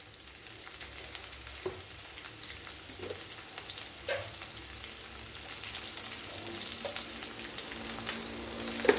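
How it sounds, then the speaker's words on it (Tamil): Onions saute in a pan with curry leaves and salt for a potato and green pea kurma, producing a steady close sizzle with occasional stirring clinks and scrapes and no speech. "வெங்காயம் நல்லா வதங்கட்டும்"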